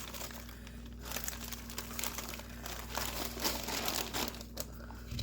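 A plastic bag of crushed Oreo crumbs crinkles and rustles close up as crumbs stuck inside are scraped out, a continuous crackling with stronger bursts and no speech.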